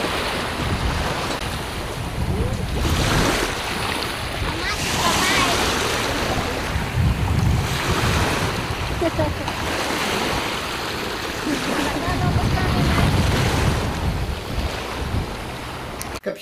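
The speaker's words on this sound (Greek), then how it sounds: "οι περισσότεροι, προτιμούν να βρίσκονται κοντά στη θάλασσα, σε κάποια παραλία" Sea waves washing onto a beach, a steady broad surf roar rising and falling in slow surges, with gusty wind buffeting the microphone throughout and no voices.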